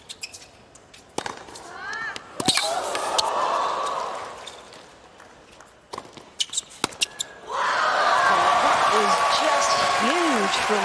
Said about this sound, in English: You can hear the oohs and ahs in the crowd.